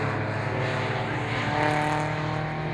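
MG race cars at Croft circuit roar past trackside in a loud, continuous, close engine drone, with layered exhaust notes overlapping as several cars pass together.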